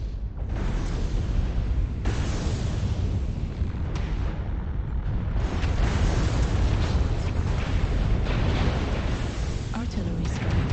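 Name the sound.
artillery strike explosions in MechWarrior Online video game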